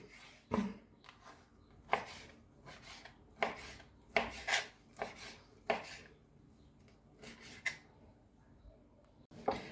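Chicken is sliced into pieces with a knife on a board for a potato and meat pie, giving irregular sharp chopping knocks and short scraping strokes, close and fairly quiet, with pauses between bursts.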